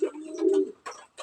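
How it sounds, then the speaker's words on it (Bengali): Pigeons cooing close by, including a black female and black-and-white birds: a low throaty coo followed by two short bursts, clear and with no talking. "দেখেন আমার কবুতরগুলো।"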